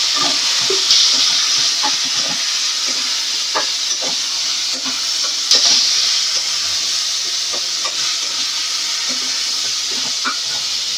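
Vegetables frying in hot oil for an egg curry, a loud steady hiss with scattered pops and stirring knocks, close and continuous with no talking.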